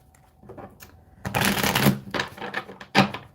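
A deck of tarot cards being shuffled by hand, giving quick papery riffles and snapping flutters in short bursts that grow louder partway through.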